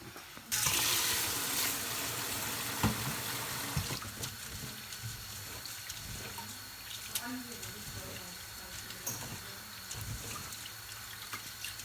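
Uncooked rice, one cup of a sticky brown variety, is rinsed in water at a kitchen sink, with steady running and sloshing water throughout and occasional clinks and knocks of the container beneath.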